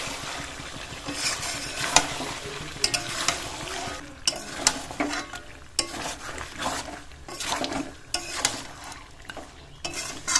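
Chicken curry with oil separating fries in a pan on high, then low, flame, with a soft continuous sizzle under repeated scraping stirs and occasional clinks of the spoon against the pan.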